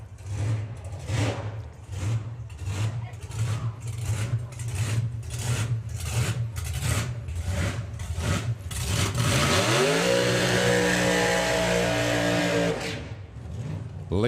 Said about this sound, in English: You can hear that engine hunting for fuel.